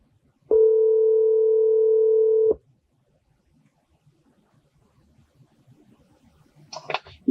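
Single steady electronic tone of an outgoing phone call ringing through a CarPlay conversion kit in a Lexus CT, one clean two-second ring, then near-silence with faint cabin noise before a voice begins.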